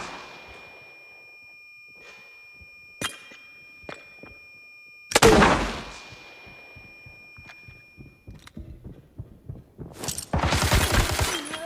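Sharp in-game blasts and impacts in Arena Breakout mobile, with one loud explosion midway followed by rumbling debris, then another burst of noisy gunfire near the end.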